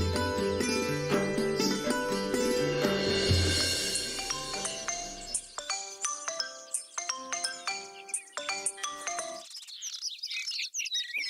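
A phone ringtone plays a bright, repeating electronic melody while an outgoing call is placed, loud and clear with no talking, then thins to a few sparse tones before stopping.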